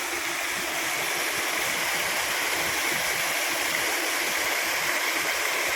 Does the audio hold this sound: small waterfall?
yes